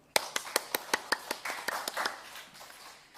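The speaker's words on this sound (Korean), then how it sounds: "네, 박수." A church congregation claps during a Sunday worship service, a dozen fairly even claps in steady rhythm that blur into scattered applause and fade out.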